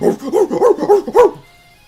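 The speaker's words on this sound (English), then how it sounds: "He begins barking uncontrollably at the squirrel outside." A dog in the video game I Love You Colonel Sanders barks at a squirrel: five quick, loud, close barks in a rapid run, then a short quiet tail.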